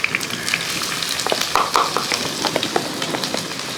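Finely chopped ginger and garlic fry with onion in a pan for a Kerala-style curry, a loud close continuous sizzle with crackles and occasional stirring scrapes, no talking.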